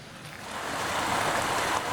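A mountain valley stream runs under a tunnel of cedar trees, a continuous broad rushing wash of water that swells slightly louder partway through.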